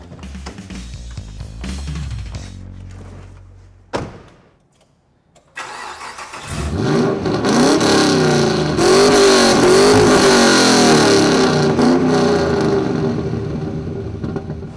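Toyota Landcruiser 80 Series with an LS1 V8 and Redback exhaust cranks over, stops, then fires up and settles into a loud, deep rumbling idle with blips of revving, close by and alone.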